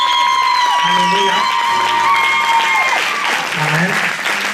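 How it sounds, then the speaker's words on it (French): A church congregation applauds and cheers loudly, steady clapping mixed with whoops and sustained shouted acclamations that rise and fall in pitch, close and full throughout. "Honorez-le avec des acclamations."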